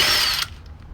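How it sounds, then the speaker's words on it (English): A ratchet or power tool whirs loudly and briefly while loosening the nut on a 2010-2012 Ford Transit CV axle, then stops, leaving faint ticks and quiet room noise. "go ahead and remove the nut"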